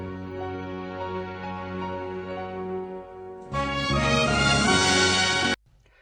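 Instrumental backing track with no vocals, a sustained layered harmonic bed for about three and a half seconds, then a louder, fuller and brighter full-band section that cuts off abruptly near the end.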